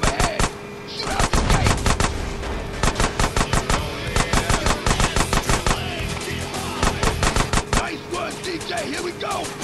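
Gunfire in a shootout in the video game GTA San Andreas Definitive Edition: loud, rapid automatic bursts crackling almost nonstop over a steady background tone, with brief pauses between volleys.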